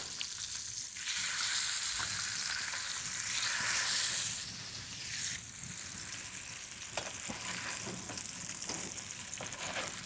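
Salmon fillet searing gently in a hot pan, a steady close sizzle and frying hiss running throughout, swelling slightly midway, with no voices.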